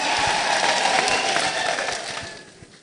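Applause from a crowd at a Christian gathering in Meru: a dense, steady wash of many hands clapping that holds loud, then thins and fades away over the final second.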